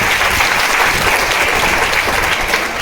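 An audience gives loud, sustained applause for Umesh ji, dense clapping filling the room steadily from start to end.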